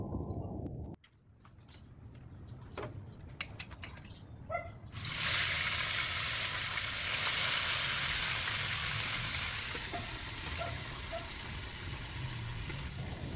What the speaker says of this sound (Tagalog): habang nagpiprito tayo ng isda